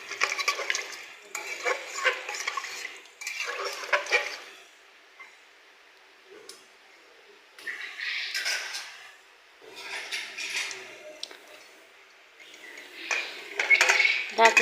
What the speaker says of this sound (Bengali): এবার আমি ঢাকনা দিয়ে ঢেকে দেব।